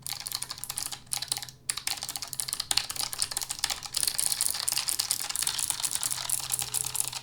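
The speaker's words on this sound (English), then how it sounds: "is a Keychron K1 with, as you can see here, some low-profile blue switches. And actually, let me pause the music so you can hear that." Rapid typing on a Keychron K1 mechanical keyboard with low-profile blue switches, a dense run of crisp, clicky keystrokes up close with one brief pause, no voices.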